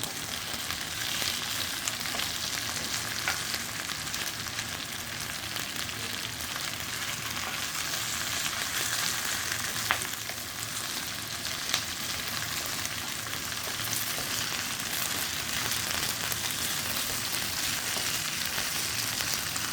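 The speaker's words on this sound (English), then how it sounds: "now we're gonna fry the okra or the bhindi along with the onions" Steady, loud sizzling of okra frying with onions in a pan, a constant crackling hiss with occasional small pops.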